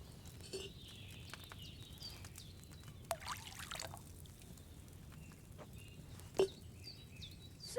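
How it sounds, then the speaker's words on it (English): Wine is poured from a pitcher into a cauldron in the medieval game Kingdom Come: Deliverance 2, a faint soft trickle and patter of liquid with a few small splashes and clinks, with no talk. "So, what did you pour in there? Wine, of course."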